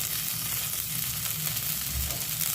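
Green peas fried with turmeric powder sizzle loudly in a pan and are stirred, a dense, steady, close frying hiss with faint scraping underneath and no talk.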